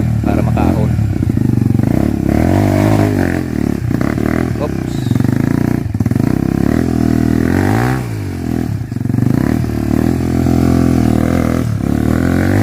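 A dirt motorcycle engine revs and strains loudly and steadily while climbing a hard uphill trail, with clattering and people talking over it.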